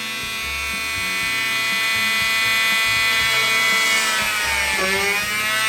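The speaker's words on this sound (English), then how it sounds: "I'm just going to be using a handheld battery operated drill to make a hole" A handheld battery-operated drill boring a hole through a soft resin piece gives a loud, steady high-pitched whine that holds for several seconds, with a brief dip in pitch near the end as the bit cuts through.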